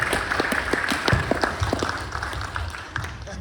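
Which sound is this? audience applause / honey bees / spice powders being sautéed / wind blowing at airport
audience applause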